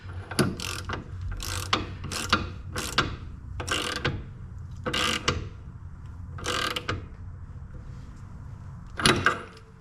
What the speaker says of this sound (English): you tighten or loosen to move the caster of the wheel forward or back